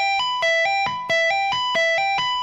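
Electric guitar tapping a repeating three-note figure from a solo, crisp bright notes played four times in a steady rhythm, alone and close with light effects.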